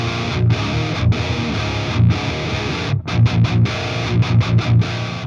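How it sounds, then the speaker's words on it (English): A high-gain, low-tuned electric guitar with no overdrive in front plays a loud, dense chugging riff, steady at first and then broken into choppy staccato stabs with short muted gaps, the low end sounding loose and boomy. "If you're doing high gain and low tunings,"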